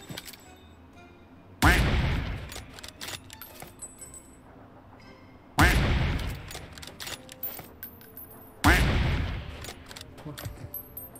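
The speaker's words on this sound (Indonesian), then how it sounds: "Itu ada tembakan." Gunfire in the mobile shooter PUBG Mobile on the Miramar desert map: three loud, heavy shots burst out several seconds apart, each trailing off into rattling echoes, with some voice in between.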